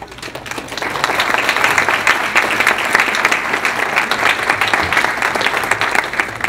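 Graduation ceremony audience bursts into loud, sustained applause that swells after a moment and holds steady as a dense wash of many hands clapping.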